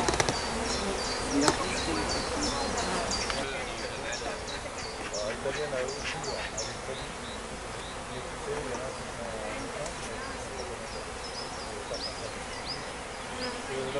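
Bees buzz around an open beehive, a dense continuous hum of many insects close by, with occasional louder passes near the microphone while people talk quietly nearby.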